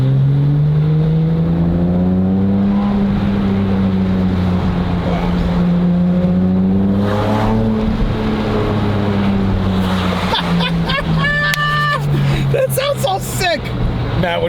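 A Porsche 997 Carrera 4S engine with a full Fabspeed exhaust drones loudly from inside the cabin with windows down, pitch rising and falling as it accelerates, with people talking over the steady roar.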